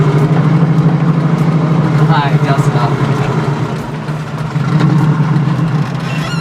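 A Mini Morris WRX build sits idling with a loud, steady low rumble that carries on unbroken throughout, while someone speaks over it.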